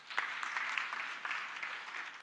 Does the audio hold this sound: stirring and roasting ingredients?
no